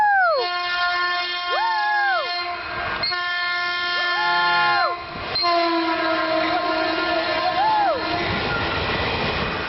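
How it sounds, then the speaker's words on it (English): Northbound Caltrain passenger train with regular gallery cars passes in Burlingame, its multi-tone horn sounding in several long, loud blasts over continuous rail rumble and wheel noise, close to the listener. "here comes the northbound Caltrain"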